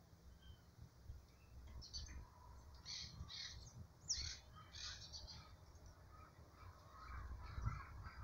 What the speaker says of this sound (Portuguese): Tem umas gralhas.